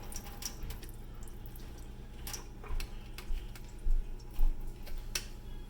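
Juice from a can of peas drips and trickles out through a partly closed lid, a faint, uneven run of splashes and wet squishes with a few louder drops toward the end.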